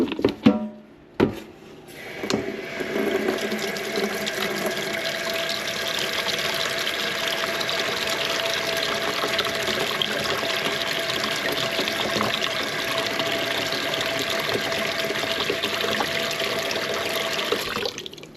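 Hot water runs steadily from a kitchen tap into a sink, a continuous close hiss and splash that holds evenly after a brief start.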